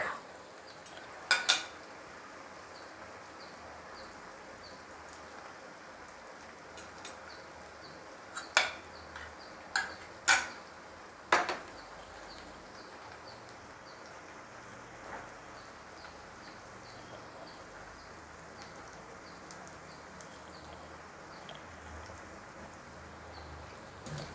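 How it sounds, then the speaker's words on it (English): Steady low sizzling of onions frying in ghee, with a few sharp clinks of a utensil against the pan near the start and middle. "So my onion is frying away and this will be fried for another 2-3 minutes"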